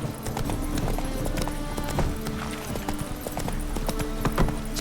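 Roach, the horse in The Witcher 3, trots with quick, rhythmic clip-clop hoofbeats that run steadily throughout under a dense in-game ambience.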